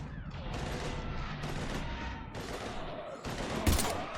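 Sustained gunfire in a Mass Effect 3 combat scene, a dense steady barrage with one louder burst near the end, under voices and game effects.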